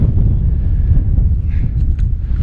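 Low, steady wind buffeting a microphone on the Old Man of Storr hike, a constant rumbling roar with brief gusts, no voices.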